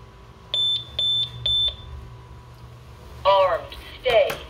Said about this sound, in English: So let's go ahead and arm the system to stay.